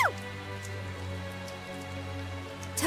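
Steady rain falls in the video game Tales of Zestiria, a soft continuous patter over a low droning background, with brief swishing sounds at the start and end.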